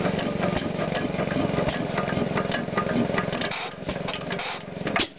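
An antique 6 HP Woodpecker hit-and-miss gas engine runs close by, giving a rapid, steady mechanical clatter of valve and latch ticks that slows and turns irregular near the end, with no talking.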